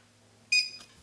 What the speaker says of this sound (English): So I'm going to set that timer now